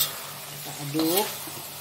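Chicken feet, pressure-cooked until tender, are stirred in a pan over a soft, steady sizzle, with a short scrape of the spoon partway through.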